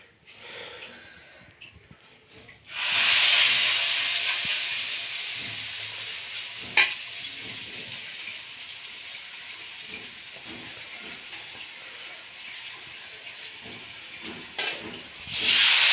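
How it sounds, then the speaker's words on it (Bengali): Rice-flour battered pieces hit hot oil and set off a sudden, loud, steady sizzle that slowly fades, with a few sharp crackles and a fresh burst of hissing near the end. No one speaks. "এরকম করে সব কটাকে আমি ভেজে নেব"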